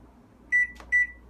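A microwave oven heating an egg gives two short, bright electronic beeps separated by a brief click, loud and close in an otherwise quiet kitchen.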